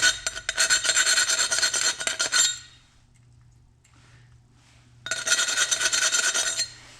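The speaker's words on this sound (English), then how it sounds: "just using this file to get any of the burrs off" A metal file rasping burrs from the inside of a cut fuel return tube on a 1967 Ford Mustang: two bursts of rapid, bright scraping strokes, close and loud, separated by a short quiet pause.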